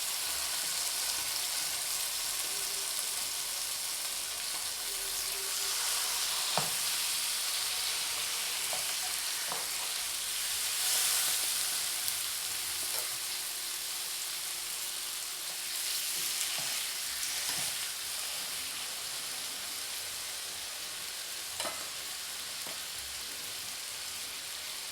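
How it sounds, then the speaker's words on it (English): Chicken thighs sear skin side down in a hot pan for a baked chicken dish with olives and feta, giving a steady broadband sizzle with occasional pops and crackles, close and continuous throughout, with no talking. "Put the chicken thigh skin side down."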